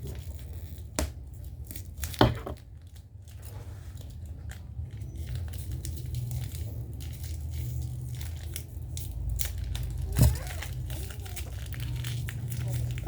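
Packaging being torn and crinkled open while unboxing a Our Lady of Fatima statue, with sharp rips near the start and again toward the end over steady rustling and a low background hum.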